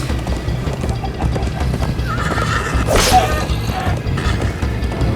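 A horse in the Minecraft: Story Mode video game neighs loudly midway through while galloping hooves and game sounds carry on steadily around it, with no talking.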